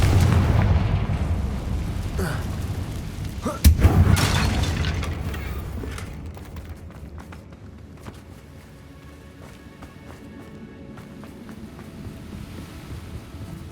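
Confringo spell explosions in the Hogwarts Legacy video game come as a loud booming blast with a rumbling roar, then fade into quieter windy ambience and faint game music.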